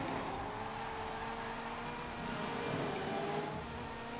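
A race car drifts in Forza Horizon 5 during a cross-country championship event, its engine holding a steady, strained drone with tire and gravel noise underneath, fairly quiet and continuous.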